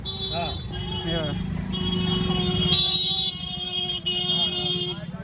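Vehicle horns honk repeatedly in busy traffic on the way to the Maha Kumbh in Prayagraj, sharp blasts rising over a steady road rumble while someone talks throughout.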